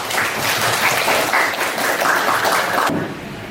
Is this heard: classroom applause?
yes